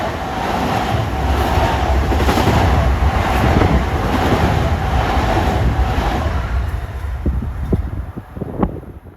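A Long Island Rail Road commuter train rolls in on triple track, a loud sustained rumble and rush of wheels on rails that eases off near the end, with a few sharp clicks as it slows.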